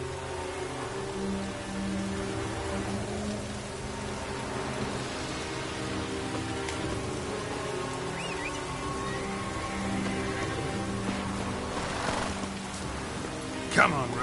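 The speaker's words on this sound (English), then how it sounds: "Looks like rain." Rain falling in The Witcher 3: Wild Hunt, a soft continuous patter beneath a low droning game soundscape, with a sharp knock near the end.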